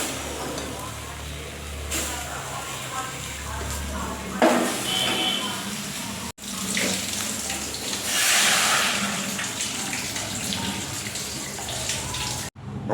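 Water pours steadily into a wok of banana peels set to boil, a continuous splashing rush with a brief clatter partway through, close and fairly loud, with no talk over it.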